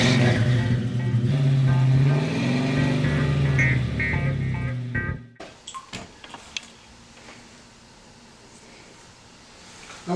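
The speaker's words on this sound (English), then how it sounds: "Get the engine started." A car engine revs loudly with rising and falling pitch for about five seconds, then cuts off abruptly, leaving a quiet room with scattered small clicks and rustles.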